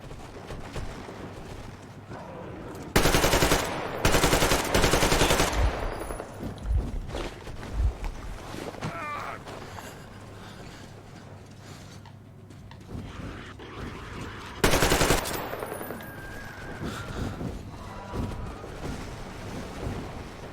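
Gunfire from the video game Metro Exodus, with two loud bursts of shots early on and another near the end, set against a busy rumbling game soundscape.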